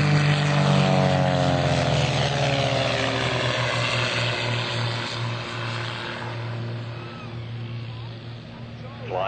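Propeller aerobatic aircraft of the Split Image team, including a two-seat Pitts Special S2B, flying at the 2004 Sussex Airshow: a loud, sustained engine drone with pitch shifts as the planes pass, fading slightly toward the end.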